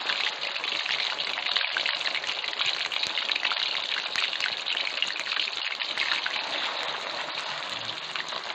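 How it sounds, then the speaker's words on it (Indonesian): Dough of tapioca and wheat flour fries in hot oil over medium heat, giving a loud, steady, close-up sizzle and crackle that runs without pause. "Kalau udah mendidih dia minyaknya, kita menggunakan api sedang aja."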